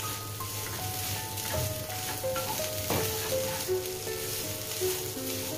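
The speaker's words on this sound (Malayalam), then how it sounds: "നന്നായി ഇളക്കി കൊടുക്കുക." Chicken thoran with grated coconut and pepper powder sizzling steadily in a pan while being stirred, a continuous close frying hiss with soft scraping strokes.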